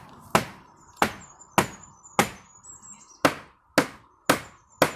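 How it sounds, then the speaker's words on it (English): Hammer blows strike pallet wood while a raised garden bed is assembled outdoors, eight sharp, loud impacts at a steady pace of roughly one per second, with faint birdsong in the background. "Just get that hammer."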